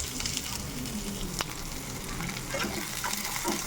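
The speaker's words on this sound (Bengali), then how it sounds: "ক্যাপসিকাম দিয়ে একটু হালকা আবার নাড়িয়ে নিচ্ছি, ভাজা ভাজা করে নিচ্ছি" Chopped carrot and capsicum sizzle in olive oil in a pan, a close, steady fry broken by brief scrapes and clacks as the vegetables are stirred.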